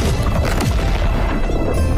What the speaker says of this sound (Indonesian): Sehingga ledakan dahsyat terjadi di udara